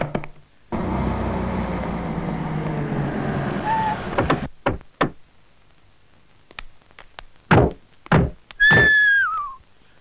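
A door is shut from inside a house: a long wash of broadband noise gives way to a few sharp, close knocks and thuds, followed by scattered clicks and a brief rising whistle-like tone.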